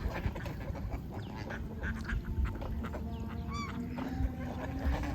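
Ducks on a village farm in Bangladesh quack and honk in short, scattered calls against a low rumbling background, fairly close and moderately loud.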